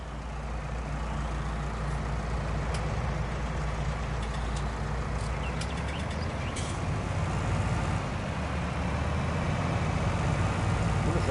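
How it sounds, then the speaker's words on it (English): Tractor engine in Farming Simulator 19 drones steadily as a low, continuous idle-like rumble, with a larger combine's engine likely adding to the constant mechanical hum. "Hey, my tractor sounds really quiet."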